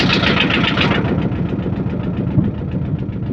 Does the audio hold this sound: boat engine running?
yes